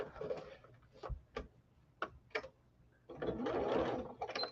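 A sewing machine stitches fabric in short close bursts, then briefly pauses with a few clicks before running again in a longer steady whir.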